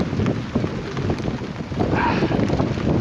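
Wind gusts across the water around a small fishing boat on Southampton Water, a rough, buffeting roar against the microphone that swells louder toward the end, with no talking.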